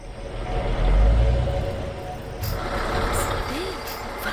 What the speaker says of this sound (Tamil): வண்டி வருதுடா மாஸ்டர்